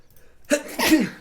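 A single sharp sneeze bursts out close by during a tabletop card game, a short intake followed by a loud, breathy explosive release.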